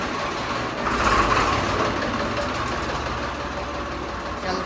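A tractor engine runs steadily nearby, making a continuous loud mechanical drone with a slight rise in intensity early on and no voices.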